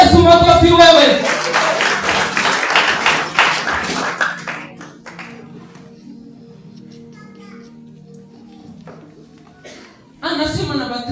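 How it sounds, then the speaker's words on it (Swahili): A revival service congregation claps for Jesus in loud, dense bursts over the first four seconds, mixed with voices and shouting, then the room quiets to a low hum before clapping and noise pick up again near the end. "Apigie Yesu makofi wewe."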